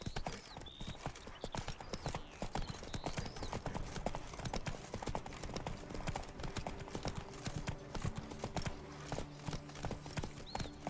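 Roach, a horse in The Witcher 3: Blood and Wine, trots with steady clip-clopping hooves across the whole stretch, close and loud over ambient game music, with a brief whinny-like sound.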